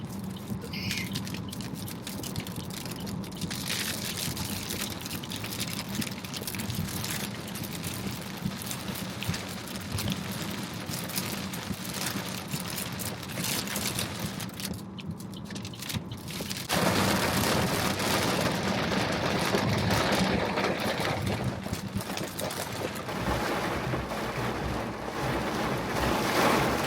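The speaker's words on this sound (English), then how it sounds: "Had I known it was gonna rain like this" Heavy rain drums hard and constantly on a car driving off a highway exit, a thick roaring wash that grows louder partway through.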